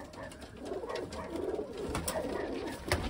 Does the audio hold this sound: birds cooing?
yes